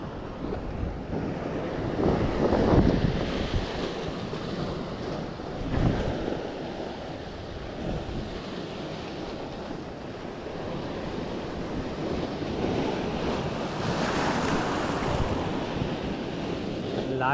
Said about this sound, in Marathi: लाट येत आहे. होय, लाट बघ, लाट बघ.